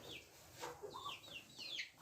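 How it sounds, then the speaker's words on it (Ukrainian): Short, nasal quacks and clucking calls from a duck close by, several in a row with brief gaps, no voices, in western Ukraine. "Це це агресивна трохи качка."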